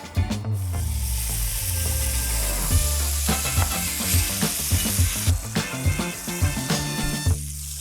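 Part-boiled broccoli sautés in the juices left from searing steak, a loud crackling sizzle with rhythmic clanks and scrapes of stirring throughout.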